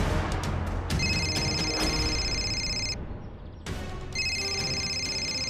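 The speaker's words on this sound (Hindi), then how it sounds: "आपका फोन है" A telephone rings in repeated bursts of a bright electronic trill, pausing briefly before ringing again, loud and close over a busy background hum.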